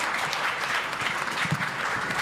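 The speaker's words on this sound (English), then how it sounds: "let's give a big round of applause" A crowd at a musical comedy show breaks into loud, sustained applause, a dense continuous wash of clapping close and full for the whole stretch.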